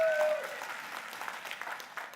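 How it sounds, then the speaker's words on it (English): A short burst of audience applause at a conference session, moderately loud and spread out, with a faint tone at the start. "Give her a round of applause."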